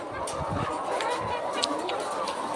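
Chickens and roosters on a poultry farm keeping Israeli-type birds cluck in short, scattered calls at moderate distance over a constant background hum.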